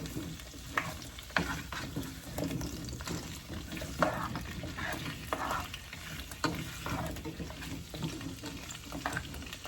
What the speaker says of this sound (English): Just span these potatoes around just like so.